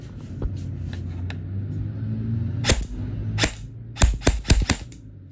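A Krytac Trident MKII CRB airsoft rifle fires: a few sharp single cracks, then a quick rapid burst of shots near the end, loud and close over a low background hum.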